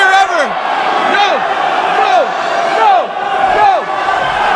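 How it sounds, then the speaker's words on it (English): A large wrestling arena crowd chants a repeated falling "no" in steady rhythmic waves, loud and continuous, with a commentator's voice running over it. "The crowd chanting no"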